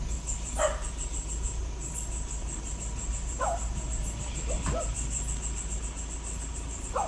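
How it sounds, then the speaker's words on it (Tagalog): A few distant dog barks ring out sporadically over a constant high chirping of crickets and a low rumbling background, in Irosin, Sorsogon. "Daming aso dyan."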